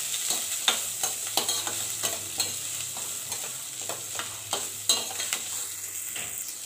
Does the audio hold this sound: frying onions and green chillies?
yes